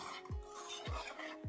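Flour and baking soda being stirred together in a bowl for cookie dough, giving three distinct scraping strokes at a steady pace, close and fairly soft with no talking.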